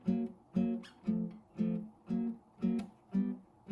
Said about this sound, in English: And then the chords sound like this.